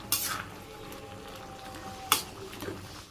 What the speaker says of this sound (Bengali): আমি একটু নেড়ে চেড়ে সবজিটা একটু গেলে দিব